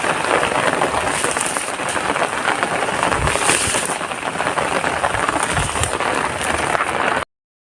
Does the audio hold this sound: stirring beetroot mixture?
no